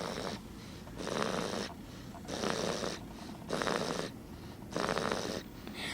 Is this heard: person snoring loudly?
yes